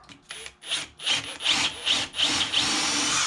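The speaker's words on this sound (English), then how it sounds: "you can use a small gouge to enlarge it." Rhythmic scraping strokes of a small gouge cutting into wood while carving an eagle, close and moderately loud, each rasping pass about half a second long.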